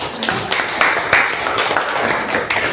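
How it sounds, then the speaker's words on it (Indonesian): A group claps hands in a steady patter of scattered taps, moderately loud and close, with a few sharper claps standing out and no voices over it. "tepuk tangan untuk kita"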